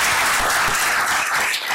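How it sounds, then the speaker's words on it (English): Brief burst of clapping from people at a school board meeting honoring high school teachers for 25 years of service, a steady wash of hand claps from a modest room crowd, moderately loud and with no talking over it. "So a round of applause for them"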